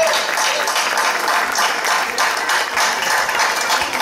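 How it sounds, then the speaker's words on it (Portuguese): Applause from a concert audience at a village orchestra performance, a dense steady wash of many hands clapping close and loud for the whole stretch, with no voices over it. "Uma salva de palmas para elas"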